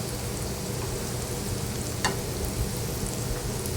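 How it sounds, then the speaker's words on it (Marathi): Vadi frying in hot oil in a pan, a steady close sizzle and crackle that holds evenly throughout with no talking. "आता ह्या बाजूने थोडा वेळ पाच मिनटं ठेवूया आपण तळायला"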